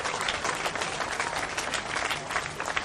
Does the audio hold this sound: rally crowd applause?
yes